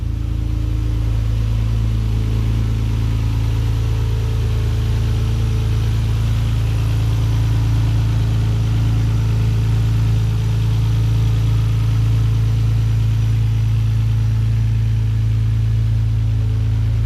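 A Nissan 300ZX with a swapped RB26 twin-turbo engine idles loudly and steadily up close, a deep constant drone with a thin high-pitched fuel pump whine running through it, and no talking.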